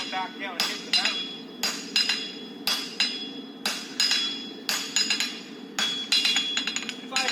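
A hand hammer strikes hot steel while forging tongs, ringing metallic blows in a steady rhythm about once a second, close and bright, with a low hum and a voice talking underneath.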